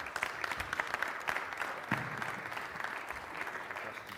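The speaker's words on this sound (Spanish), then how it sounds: "Un aplauso para él" Conference audience applauding a technology company president as he is called to the stage at a panel event, a quiet, dense patter of many hands that swells slightly, then thins toward the end.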